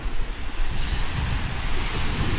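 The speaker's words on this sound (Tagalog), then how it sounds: "So, andito na tayo sa tabing dagat of Brunei." Sea waves wash steadily onto the shore at a seaside beach in Brunei, a loud, continuous rushing surf with wind buffeting the microphone, heard alone without talk.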